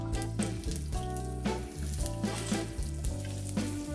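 Onions and peppers sizzle and fry in hot oil with mustard and cumin seeds, a steady close crackling hiss with occasional stirring clinks, no talking.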